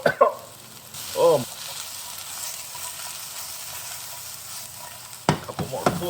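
Onions and garlic fry in a pan for Beijing beef with a steady, close sizzle. Brief stirring and scraping sounds appear at the start and end, and a voice makes a short remark.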